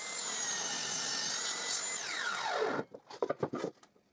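A table saw crosscuts a clamped wooden workpiece at 45 degrees: a loud whining blade spins, cuts, then winds down with falling pitch, followed by a few light knocks and rubs of wood.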